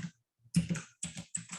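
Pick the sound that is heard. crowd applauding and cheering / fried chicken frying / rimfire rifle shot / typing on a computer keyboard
typing on a computer keyboard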